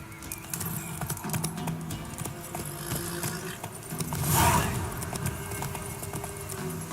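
Roach the horse's hooves clip-clop in The Witcher 3, a light rhythm of steps under ambient game sound, with a brief louder swell midway.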